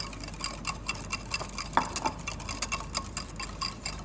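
Mint paste, cumin powder and salt being mixed together for Karachi bun kabab, a quiet run of soft spoon clicks and scraping against the bowl in a steady rhythm, faint and close, with no talking.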